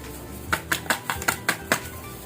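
Fiber drink stirred in a glass, a quick run of about seven bright clinks as the spoon strikes the glass in a fast, even rhythm, close up with no talking.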